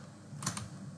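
A computer keyboard gives a couple of quick, soft keystroke clicks, faint and close, in an otherwise quiet moment.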